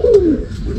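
A racing pigeon gives a single short, close coo that slides downward, followed by a moment of quiet room noise.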